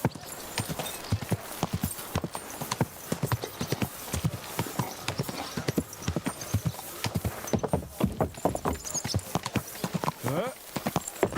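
Horse hooves clip-clop in a steady rhythmic gait during a hardcore-mode video game DLC run, close and prominent throughout, with occasional speech over the top.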